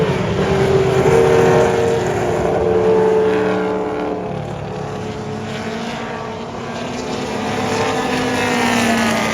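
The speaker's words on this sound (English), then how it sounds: "So, Jaguar E-Type driving by right now." A Jaguar E-Type passes at a vintage car gathering, its engine a steady, fairly loud drone that swells and fades slightly over several seconds amid outdoor background noise, with no talking.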